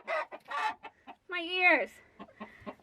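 A rooster clucks and squawks loudly at close range while attacking a person who cries out, with sharp clucks and a strained crowing call among short spoken words.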